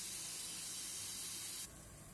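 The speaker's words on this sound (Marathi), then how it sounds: "हे पहा मध्यम आचेवर आपले कॉर्न असे छान उकडत आहे" Corn boiling in water in a pot over a medium flame for soup, a steady close hiss and bubble that drops noticeably softer toward the end, with no talking.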